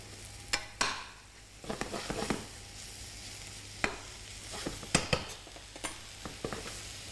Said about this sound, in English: we're going to keep that pan moving either with a spoon, or you can give the pan a little toss as well